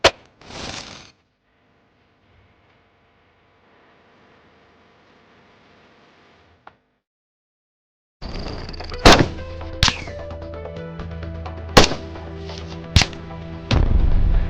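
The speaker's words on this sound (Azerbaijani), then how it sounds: "SVD ikinci atəş." SVD rifle fired at armoured glass outdoors, several sharp loud cracks spaced a second or so apart over a rumbling background, following a near-silent stretch.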